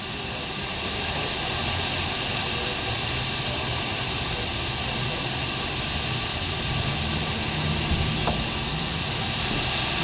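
Steady, loud hiss of steam venting from the nozzle of a steam locomotive, the Vanderbilt Racer, being steamed up, a continuous broadband rush filling the whole stretch with no pauses.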